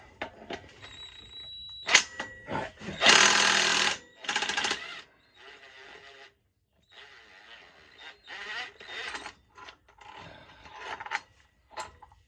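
An impact wrench hammers at a stubborn bolt on a 2021 Can-Am Renegade 1000 XMR ATV in short loud bursts with metallic clanks and pauses between them. Someone talks briefly in the gaps.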